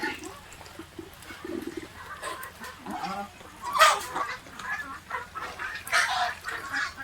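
Ducks and chickens at a local farm in Kalaichar call from their coop, giving repeated honking quacks and clucks at moderate loudness with no talking.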